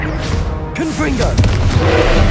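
A Confringo blasting spell goes off in Hogwarts Legacy, a booming explosive burst over dense, loud combat ambience, with voices calling out briefly during the fight.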